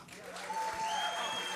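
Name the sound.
audience applause at tribute show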